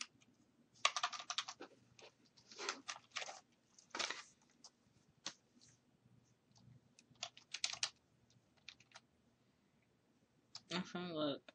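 Bursts of clicky keystrokes on a computer keyboard come in short irregular flurries with pauses between, close and fairly quiet, with brief talk near the end.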